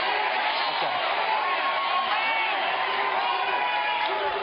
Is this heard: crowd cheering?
yes